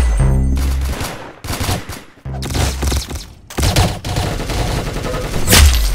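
Springfield rifle gunfire in a Roblox game, a series of loud booming shots with heavy low thumps, brief gaps between bursts and a sharp bright crack near the end.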